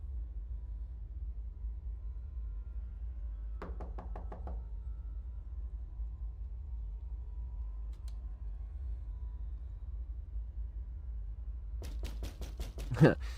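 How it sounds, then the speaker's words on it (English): Two bursts of rapid, heavy knocking from a door being busted in The Building 71 Incident video game, the first brief, the second harder and ending in a loud bang, over a low steady rumble. "when you hear the door bust."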